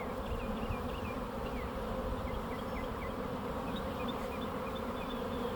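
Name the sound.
honeybee swarm buzzing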